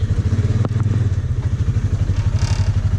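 A Polaris Ranger 570 utility vehicle's engine runs close by with a steady, rhythmic low throb and faint clattering throughout.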